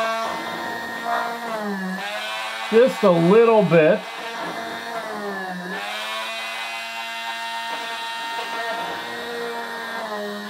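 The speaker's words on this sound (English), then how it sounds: "So I'm going to use a cordless Dremel tool with a very small bit on the end." A small high-pitched cordless Dremel whines steadily and shifts pitch as it drills pilot holes with a very small bit, while someone talks briefly partway through.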